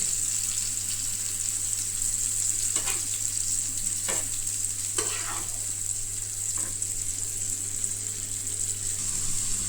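Paneer roll filling sizzles steadily in a hot pan, with a constant bright frying hiss and a few scraping stirs of a spatula at intervals.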